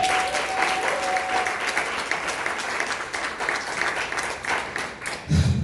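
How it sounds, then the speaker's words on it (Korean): Steady applause from an audience at a business training seminar, with a dense, even wash of clapping that holds throughout, fairly faint and distant, ending with a brief thump. "다시 한번 큰 박수 부탁드립니다"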